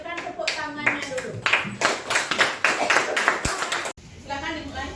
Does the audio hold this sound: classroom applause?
yes